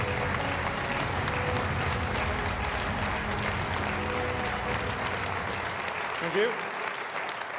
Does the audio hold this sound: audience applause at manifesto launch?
yes